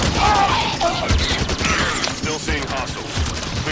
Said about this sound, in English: Shooting all that plasma shit everywhere.